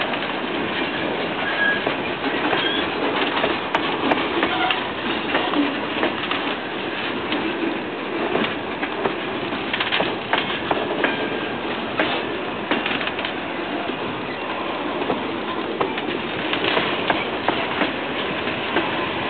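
Two Norfolk Southern freight trains pass each other nearby, making a steady, loud rumble with continuous rattling and clicking of wheels and cars throughout.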